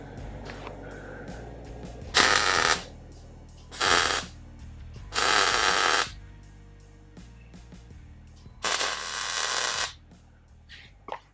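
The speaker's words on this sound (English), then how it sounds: "Now I'll just weld that shut, and then you got a full penetration weld." MIG welding a tube shut on a fabricated car body structure, with several loud crackling bursts of a second or two each separated by quieter pauses, close up and with no talk.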